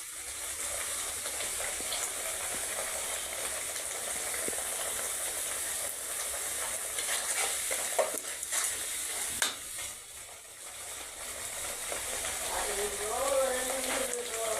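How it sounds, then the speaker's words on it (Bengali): Spice paste fried and stirred on a stove, a continuous bright sizzle with scattered scrapes and knocks of the spoon, slightly fading partway through, while a voice is briefly heard near the end. "মশলাটা যে কষায় নিচ্ছি মশলা কিন্তু সুন্দর করে কষাই"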